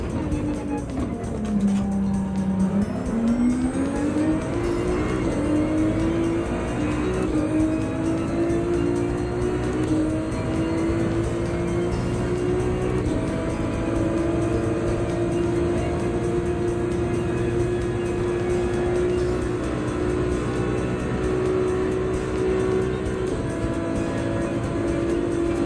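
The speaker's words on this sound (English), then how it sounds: "We have a tire advantage on the Genesis of Aaron." Race cars in Gran Turismo 7 run at Dragon Trail Gardens in the rain, including a Genesis. A continuous engine whine dips briefly, then climbs and holds a steady high pitch throughout.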